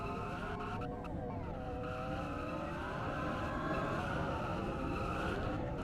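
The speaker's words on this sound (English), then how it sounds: "And doing the burnouts here on the front stretch." Race cars in a racing video game doing burnouts on the front stretch at Navajo, producing continuous loud tire squeal and screeching with wavering pitch over steady engine roar, with a faint voice talking underneath.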